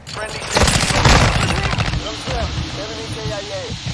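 Rapid video-game gunfire crackles in a dense burst early on, then sporadic shots continue while a player's voice talks over the action.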